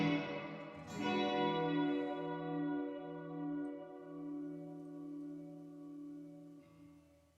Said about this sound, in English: Gonna add a little reverb.